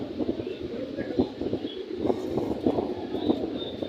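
Pigeons cooing at the Jinjira pigeon market in Bangladesh, a repeated low throaty pulse rising and falling every half-second or so, close and moderate in level over a faint murmur of the market.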